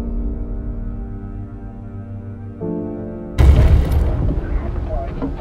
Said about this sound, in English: A massive terrorist bomb went off in the city of London today